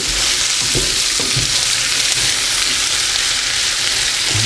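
Potatoes with onions and red peppers fry in a pan to a steady, loud sizzle, with a few soft scrapes and stirring knocks scattered through it and no voices.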